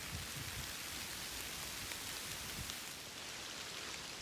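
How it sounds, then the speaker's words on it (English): Heavy rain pours down at Summit Lake in October, a loud, steady hiss of rain hitting surfaces with no break and no voices. "It just started pouring. I don't know if it's socked in for the night or not, but it's pouring down rain for sure."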